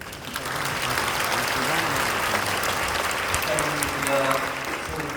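Audience applause at a church prayer meeting, a sustained, fairly dense round of clapping that swells in and holds steady, with faint voices murmuring underneath.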